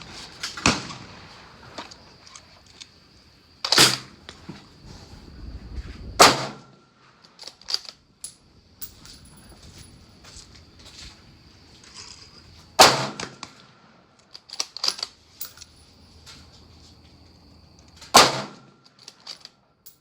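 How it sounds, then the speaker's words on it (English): Ruger RPR rifle firing Winchester Match 140 grain ammunition at a range: five sharp, loud shots spaced several seconds apart, each with a brief ringing tail, and quiet handling noise between them. "Some Winchester Match 140 grain"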